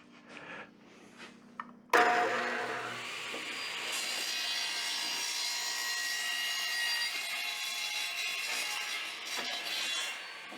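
A table saw starts with a sudden burst, its blade biting into plywood and then cutting in a loud, sustained, whining roar that holds steady and close for several seconds.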